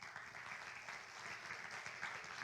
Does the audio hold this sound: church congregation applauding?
yes